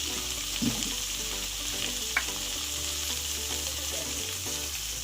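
Tomato with salt and turmeric is slowly sautéed in a pan for a rohu fish and cauliflower curry, giving a constant, even sizzle up close with a faint scrape or two and no talking.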